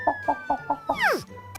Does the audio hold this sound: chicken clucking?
yes